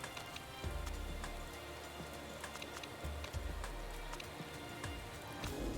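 Rain falls in the Motorsport Manager racing game, a steady soft patter of drops with scattered sharper ticks and low thumps, quiet and continuous.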